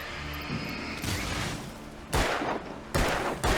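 Gunfire in the Alan Wake video game, several loud shots bursting in quick succession with sharp onsets and short decays, close and dominant, with no talk.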